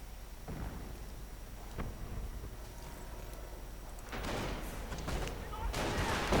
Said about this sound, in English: these Panzergrenadiers were almost knocked out by mortar fire